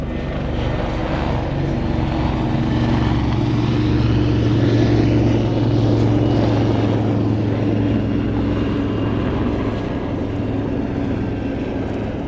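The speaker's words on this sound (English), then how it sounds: "And two very different concepts of shipboard helicopter operation here, Andy." Military helicopters, including a Westland Wasp, drone loudly and steadily overhead at an air display, a continuous rotor and engine roar that stays strong the whole time.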